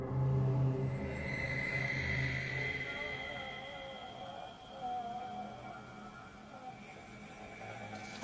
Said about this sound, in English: this scary whistling noise is heard